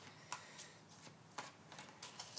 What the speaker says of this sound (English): I'm just going to pull a couple of cards for you.